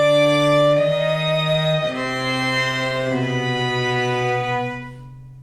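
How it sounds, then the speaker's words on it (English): A string quartet by Shostakovich states a short four-note motif: sustained, bowed notes that step downward and hold, with rich overtones and a soft fade at the end, with no voices. "Shostakovich uses a short motif made up of just 4 notes which sound like this."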